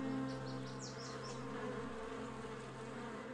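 Honey bees buzz steadily at a rooftop hive in a city, a dense, continuous drone with a few individual bees whining past close by.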